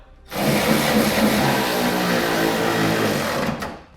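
An impact wrench or power tool tightening the nuts and bolts of a Curt trailer hitch receiver on a 2016 Ram 1500, a steady loud whirring buzz lasting about three seconds before stopping.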